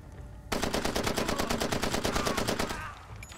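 Automatic gunfire in the video game Far Cry 2, a steady rapid burst of about two dozen shots lasting over two seconds, loud and close, then stopping abruptly.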